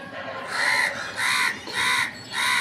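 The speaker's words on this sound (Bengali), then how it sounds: "এই যে পানি খেতে আসছে কাকগুলো" Crows caw loudly and close by as they come to drink water from a bucket, four harsh calls repeating at an even pace with short gaps between them.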